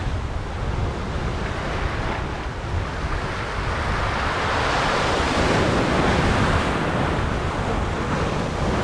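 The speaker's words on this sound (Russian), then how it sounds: "Волна сегодня пока не очень большая." Pacific Ocean waves break on the shore in a continuous roaring wash, building louder toward the middle, with wind buffeting the microphone.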